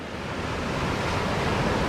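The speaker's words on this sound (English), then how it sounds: "the surf's still kind of rough for this time of the year" Rough ocean surf breaks continuously on a beach at New Smyrna Beach at low tide, a loud steady wash of wave noise with wind and no voices.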